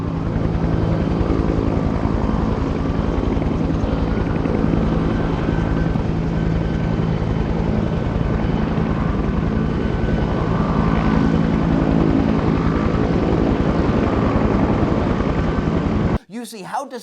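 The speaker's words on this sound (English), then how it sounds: "from the first frame of the film when the helicopter lands" A helicopter sets down at the opening of an action film, its steady rotor and engine roar loud and continuous for about sixteen seconds before cutting off abruptly, with a brief burst of other sound at the very end.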